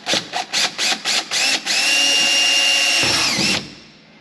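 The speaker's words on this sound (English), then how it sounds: "Once I have the hole drilled, I'm gonna be able to put a bolt through there" Power drill boring a hole for a light bar bracket on a side-by-side, starting with several short rhythmic trigger bursts, then a sustained loud whine that drops in pitch as the bit cuts through before winding down.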